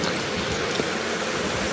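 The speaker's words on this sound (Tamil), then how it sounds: "வேணுங்கிற அளவுக்கு தண்ணி ஊற்றி விட்டு" Water poured into a pot for idli and dosa sambar, a continuous steady splashing stream, close and moderately loud with no talk over it.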